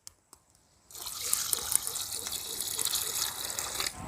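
Fresh water poured from a vessel onto cleaned mud crab for a mud crab biryani, a steady splashing gush lasting about three seconds, close, after a couple of faint knocks.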